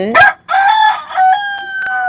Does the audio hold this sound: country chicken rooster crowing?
yes